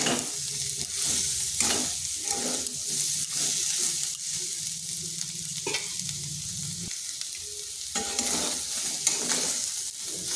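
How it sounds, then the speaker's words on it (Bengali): Soybean chunks and papaya fry together in a pan for a vegetarian dish, giving a steady close sizzle with repeated scraping stirs throughout and no talking. "সয়াবিনগুলো আগে বা পরে ভেজে আলাদা করে ভেজে নিতে পারেন, কিন্তু আমি একসঙ্গে ভেজে নিচ্ছি।"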